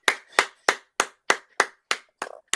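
Eight sharp, evenly spaced hand claps, loud and close, each ringing briefly before the next, with no talk over them.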